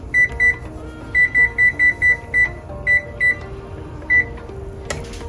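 A kitchen timer or microwave keypad gives a series of sharp, close electronic beeps in uneven bursts as ten minutes is entered while pasta with seafood is being cooked, with no talking.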